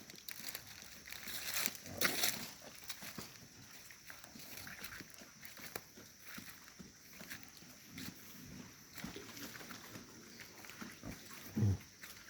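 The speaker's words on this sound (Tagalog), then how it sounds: "Yan po ang aming barako." Native pig boar on a backyard farm, with scattered grunts, snuffles and shuffling movement at moderate distance among faint rustling and background ambience, including a louder snort near the end.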